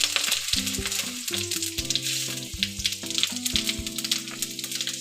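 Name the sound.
bay leaves, green chillies and cumin sizzling in hot oil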